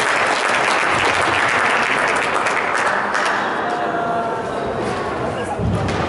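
Audience clapping at a table tennis match, a dense, sustained burst of applause from a crowd, loud and continuous for several seconds.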